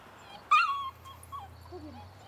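Puppies from a litter of ten yip and whimper outdoors, a sharp close cry followed by thin wavering whines over a low steady hum.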